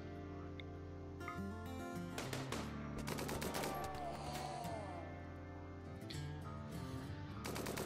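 Gunfire from pirates being shot in the video game RimWorld, steady bursts of shots running through the whole span over a constant bed of game music.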